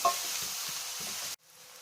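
Onions and peppers sizzle steadily in a hot pan, with a few soft stirring scrapes, close and fairly quiet, before the sizzle abruptly drops away.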